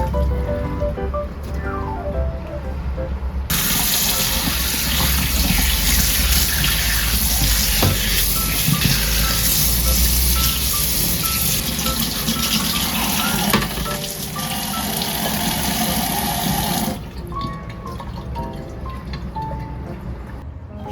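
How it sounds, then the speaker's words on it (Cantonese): Blanched lean pork being rinsed under a running tap, a loud continuous gush of water splashing over meat in a bowl, steady for most of the stretch before easing off. "瘦肉飛水之後呢，就用清水沖返乾淨佢"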